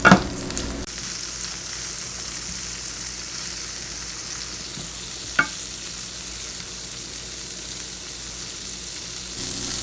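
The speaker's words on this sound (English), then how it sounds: "And we'll just let it cook and sear." Italian sausage sears in a pan with a continuous, even sizzle heard up close, broken by a sharp clatter near the start and a brief click midway, with no voices.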